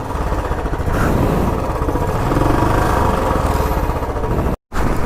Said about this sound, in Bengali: বাইক স্টার্ট করে বেরোনো যাক।